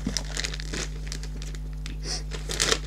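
Plastic packaging crinkles and crackles as a 2016 Sylvanian Families brick oven bakery toy set is unwrapped, with close, continuous rustling and a few sharper crackles over a steady low hum.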